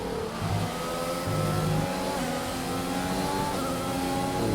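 A race car engine in a racing video game revs and accelerates at a steady, fairly loud level, its pitch rising through the gears, with the car held close throughout.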